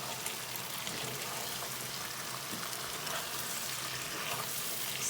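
Lamb meat curry sizzles steadily in a pan, a dense, even hiss of frying that holds at a constant low level throughout with no voices.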